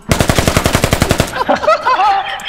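Machine gun fires a rapid burst of about a dozen evenly spaced loud shots, then the echo and clatter trail off briefly.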